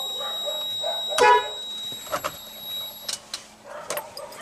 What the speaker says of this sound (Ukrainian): Всі собаки гавкають.